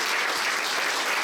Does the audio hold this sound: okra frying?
no